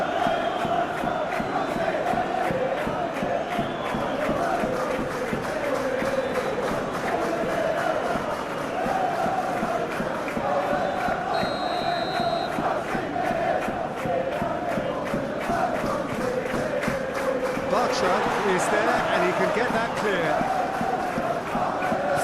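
A dense stadium crowd roars and murmurs continuously during a Real Betis versus Chelsea Europa Conference League final, steady and broad, with a commentator talking over it.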